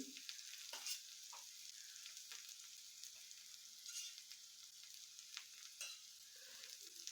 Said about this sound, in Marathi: आता हेही थोडंसं तेलामध्ये परतून घ्यायचं